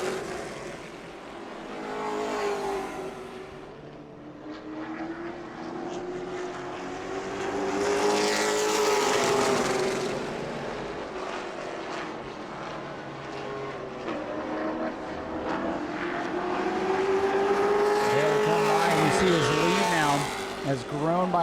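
Race cars in the New Smyrna Hoosier Series lap the track, their engines droning and rising and falling in pitch as they pass, loud and continuous beneath an announcer's steady commentary.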